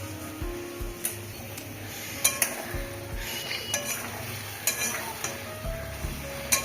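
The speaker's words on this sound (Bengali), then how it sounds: "আমি এর মধ্যে মশলাটা ভালোভাবে কষে নেব।" Spices frying with potatoes and chopped tomato in a kadai sizzle steadily while a spatula scrapes and knocks against the pan in an irregular rhythm, close and alone without talk.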